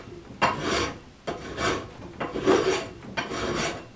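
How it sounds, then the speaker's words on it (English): A metal file rasps across the rounded inside corner of an angle iron clamped in a vise, four steady strokes with brief pauses between, close and fairly loud with no talk. "taking it once again in your vise and filing away that rounded corner"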